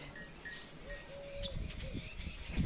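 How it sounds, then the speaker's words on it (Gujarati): Goats loose inside a house give faint, distant bleats over a low background hum, with a brief rustle near the end. "આખા ઘરમાં છૂટા બકરા બેસે"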